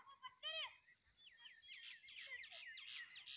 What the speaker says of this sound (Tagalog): ganun dito maririnig mo is yung mga ibon-ibon. Tunog ng ibon.